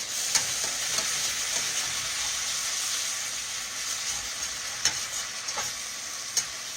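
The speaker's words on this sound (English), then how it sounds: "Cooking in that butter." Fish frying in browning butter in a pan, a steady close sizzle and crackle running throughout, with a few light clicks of a utensil against the pan and no talk.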